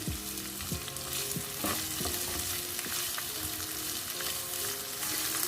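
Three kinds of bell pepper stir-frying in a pan for veg fried rice, steady sizzling under repeated scraping and clattering of a spatula, close and moderately loud, no voices.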